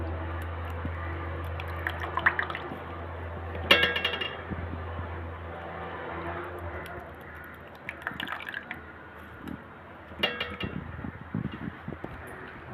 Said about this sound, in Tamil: இதே மாதிரி அடுத்த பவுலில் உள்ள ரவையுமே நான் அதில் புழிஞ்சு போட்டுக்கிறேன்